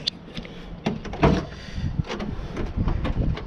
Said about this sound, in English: All right, so we're gonna open up these back doors.